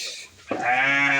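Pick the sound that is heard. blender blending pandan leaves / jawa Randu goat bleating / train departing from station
jawa Randu goat bleating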